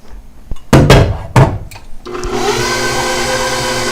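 Eggs being blended into spanakopita filling, a few heavy thumps and clatters before a mixer starts up and runs with a steady whirring drone.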